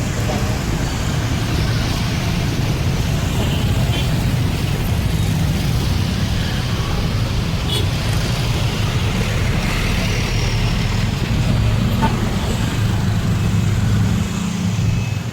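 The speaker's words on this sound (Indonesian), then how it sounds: "Nyebrangnya agak sulit karena memang padat lalu lintas" Dense, heavy road traffic roars steadily on a busy street, cars and trucks passing continuously close by, loud and unbroken throughout.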